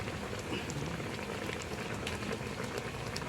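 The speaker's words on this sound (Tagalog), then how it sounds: "Pakuluin lang po natin na siguro mga 15 minutes at okay na po siya" Chicken adobo with honey and a splash of vinegar simmering in a pot, a steady bubbling and sizzling hiss with scattered pops, close and continuous with no talk.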